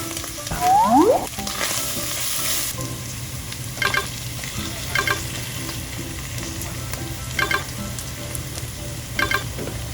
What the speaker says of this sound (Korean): 중약불에서 양념과 건더기가 잘 섞이도록 서서히 볶아줍니다.